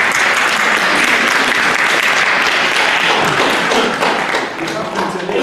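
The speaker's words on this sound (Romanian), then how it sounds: "Deja am înțeles că ați aplaudat de Sergei Coloșencu" A lecture audience in a hall applauding a tribute to the poet Eminescu, loud dense clapping sustained throughout and tapering slightly near the end.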